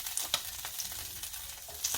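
Ground chilies sizzle in hot oil, giving a steady soft crackle with small pops and occasional stirring scrapes, close and fairly quiet, with no talking.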